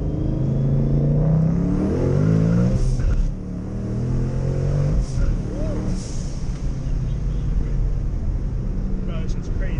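A twin-turbo Ford Mustang pulls hard in first gear, its engine roaring loud and close from inside the car, the pitch sweeping upward as it revs, with voices talking over the rumble.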